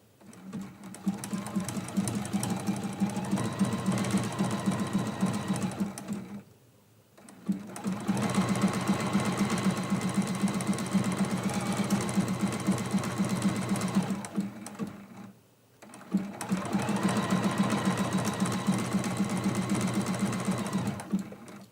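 A sewing machine stitches around an apple and leaf appliqué on a quilt block in three long, steady runs of fast rhythmic whirring, close and clear, separated by short pauses.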